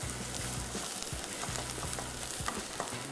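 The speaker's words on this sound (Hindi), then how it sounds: "प्याज जब तक फ्राई हो रहा है" Onions fry in a pan with a steady, close sizzle and occasional stirring scrapes, no voices over the crackling.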